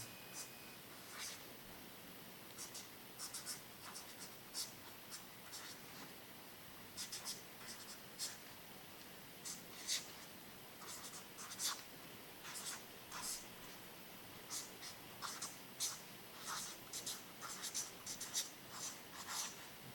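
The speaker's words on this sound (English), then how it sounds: "I'm going to start off with writing that in the page." A pen scratches across a paper page in soft, irregular strokes, quiet and close, with short pauses between words.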